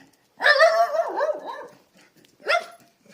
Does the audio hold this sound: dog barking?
yes